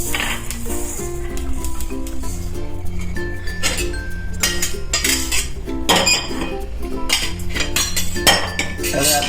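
Metal utensils clink and scrape in quick repeated bursts as roasted sesame seeds are transferred into a metal vessel, against a steady bed of background music.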